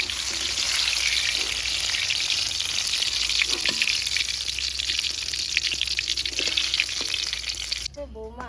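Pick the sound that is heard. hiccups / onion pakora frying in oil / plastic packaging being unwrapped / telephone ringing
onion pakora frying in oil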